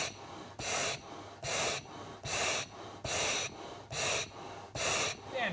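Heavy, rhythmic breathing during an exercise lung-function test for exercise-induced asthma, with about seven loud, evenly spaced gasping breaths, close and strained, repeating steadily with no talk.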